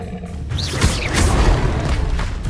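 Expelliarmus spell cast in Hogwarts Legacy, a loud whooshing magical burst with a deep boom and swirling shimmer lasting a couple of seconds.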